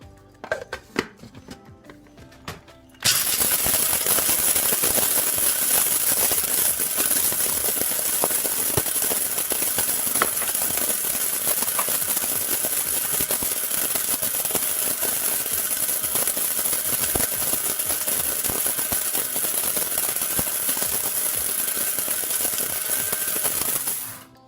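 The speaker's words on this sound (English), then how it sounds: "So what I'll do is I'll take it all and I'll put it into my grinder." An electric grinder runs loud and steady for about twenty seconds as it grinds hard rose hips to powder, after a few seconds of quieter handling beforehand.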